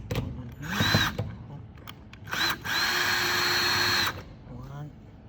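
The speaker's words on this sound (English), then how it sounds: "So just going to screw one in here." A power drill drives screws into the frame of a café wind barrier, with two whirring bursts, the second held steady for about two seconds, close up, amid light handling noise and a brief voice.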